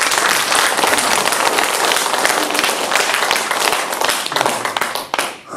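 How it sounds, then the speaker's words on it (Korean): A lecture audience gives a big round of applause, loud dense clapping sustained throughout before thinning out near the end. "크게 박수 한번 보내요"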